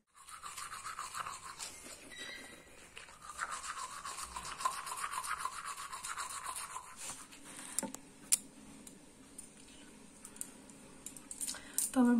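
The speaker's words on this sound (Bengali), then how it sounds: "ব্রাশটা ঝটপট সেরে নিই।" Teeth are brushed with a toothbrush in quick, close, rhythmic scrubbing strokes, fairly faint, with a few clicks and a brief rinse-like rise near the end.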